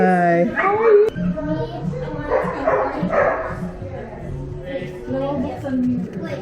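A dog barks and yips in short, repeated bursts close by outdoors on a hike, mixed with people chatting and cooing over it throughout.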